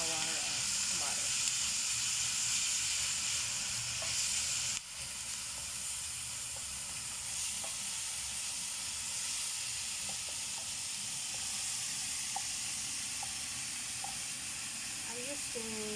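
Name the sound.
minced meat frying in a pan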